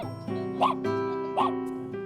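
A dog at a market gives two short, moderately close yips over a steady tonal hum and background noise.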